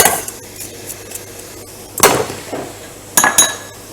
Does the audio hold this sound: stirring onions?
yes